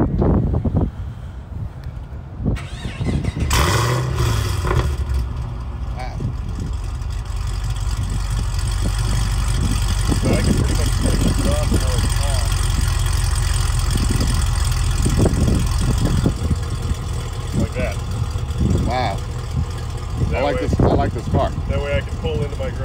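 A Chevrolet SS engine with bimodal exhaust idles with a deep, steady rumble throughout, close by, with wind buffeting the microphone and people talking over it.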